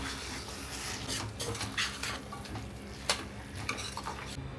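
Mutton being mixed into a thick masala in a pan, with quiet scraping and stirring strokes, soft clinks of a spoon against metal and a low sizzle underneath.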